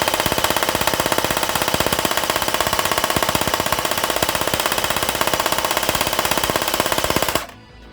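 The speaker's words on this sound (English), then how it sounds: "That is too long of a burst, and already I can feel heat through the pistol grip." A G36 airsoft rifle, a rental gun in for repairs, fires one long full-auto burst indoors: a loud, steady, rapid mechanical rattle of shots that runs for about seven seconds and then abruptly cuts off.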